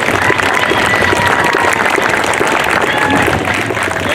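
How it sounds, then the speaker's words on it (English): Crowd at a Scouting veterans parade ceremony in Brandon, Vermont clapping for veterans, a loud, steady round of applause with crowd noise mixed in, lasting several seconds. "Can we give them a round of applause,"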